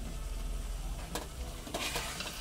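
Shredded cabbage tipped into a hot pan with potatoes and spices sizzles steadily, with a couple of sharp rustling clatters as it lands and is moved, close and continuous.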